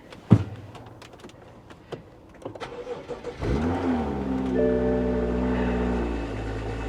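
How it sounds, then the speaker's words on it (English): A 2015 car engine cranks and starts after a few clicks, then settles into a deep, throaty idle rumble from a non-factory exhaust, close by. "Interesting exhaust. Does not sound factory."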